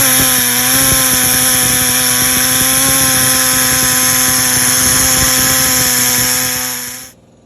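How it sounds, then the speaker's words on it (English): A power tool shaves a rubber bumper flat on one side, grinding loudly and steadily at close range for about seven seconds before quickly winding down. "take this rubber bumper and shave it down one side and make it flat"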